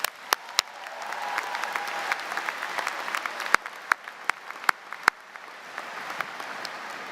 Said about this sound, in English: let's give a round of applause for Mr.